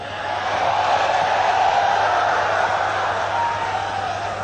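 An audience at a Malaysian political debate cheering: a steady, fairly loud wash of many voices and applause-like crowd roar that swells and holds for several seconds.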